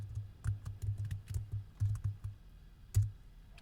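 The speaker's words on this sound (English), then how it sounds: "I can check it by just typing in status." Keys clack on a computer keyboard in a close, uneven run of typing while a Linux server is set up, with a short pause before one final loud keystroke.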